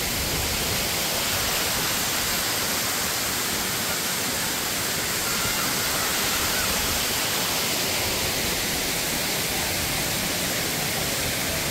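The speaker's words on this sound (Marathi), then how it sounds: "हा आहे आपल्या कोकणातील एक प्रसिद्ध असा धबधबा आहे, सवतकडा, चुनाव कोळवण येथील" Savatkada waterfall at Chunakolavan in the Konkan pours in a steady, dense roar of falling water, loud and unbroken throughout with no voices.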